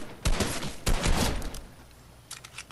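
Two sharp bursts of video game gunfire ring out close and loud about half a second apart, followed by a quieter lull and a faint flurry of distant shots near the end.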